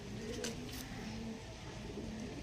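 Pigeons coo faintly in low, drawn-out murmurs against a constant background hum, with a couple of short sharp noises near the start.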